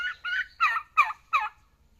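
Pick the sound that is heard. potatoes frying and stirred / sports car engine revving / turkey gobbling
turkey gobbling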